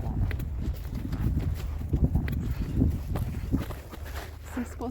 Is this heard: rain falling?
no